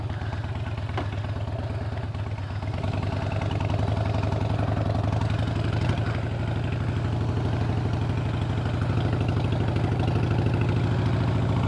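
A chopper motorcycle with a foot clutch and jockey shift idles nearby, its engine giving a loud, steady, lumpy rumble with a loping beat and a faint mechanical clatter throughout.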